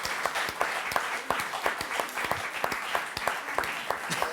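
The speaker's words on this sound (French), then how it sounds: "Bravo, Jérôme, on peut vous applaudir." Audience applauding on a French television show after a man bends a metal bar, lively clapping with distinct sharp close hand claps over a fuller crowd, brisk and fairly loud.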